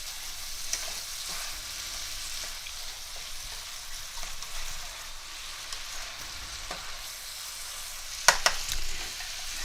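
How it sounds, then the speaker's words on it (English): Vegetables for chicken fajitas sizzling in a pan, a soft continuous hiss at moderate distance with a couple of sharper clinks near the end. "while the vegetables are cooking"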